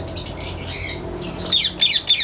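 A caged breeder pair of yellow pet birds in a breeding setup gives loud, harsh squawks, a burst of calls followed by several sharper squawks close by, with no talk over them.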